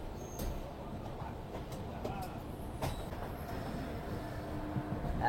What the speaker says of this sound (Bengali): 5 মিনিট হল দিয়ে কিন্তু ট্রেনটা আবার আমাদের ছেড়ে বেরিয়ে যাচ্ছে জাজপুর কাউঞ্জোর রোড